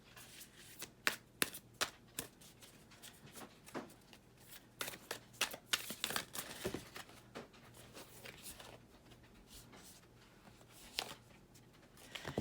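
Tarot cards shuffled by hand at close range, a run of crisp riffling flicks and soft slaps in uneven bursts, with no voice.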